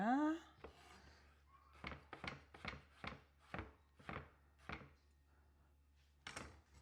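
A knife cuts through a strawberry on a cutting board with a series of about ten crisp, close chopping taps in an uneven rhythm, heard at low volume.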